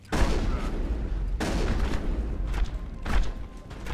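Gunfire in Mass Effect: several bursts of rapid shots crackle loudly in close succession, with brief pauses between volleys and no talk over them.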